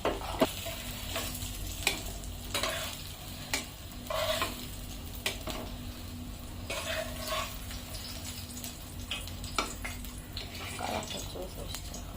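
Fish fries in a pan in a home kitchen, a steady soft sizzle under occasional stirring scrapes and utensil clinks, with faint voices in the background.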